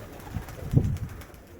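Pigeons in a loft give low, soft cooing calls, a few rising murmurs with one fuller coo near the middle, over quiet background noise.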